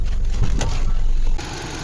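A car engine idles steadily after a belt replacement, a new cap and a coolant top-up, a loud, close, even hum with faint ticking that drops slightly in level toward the end.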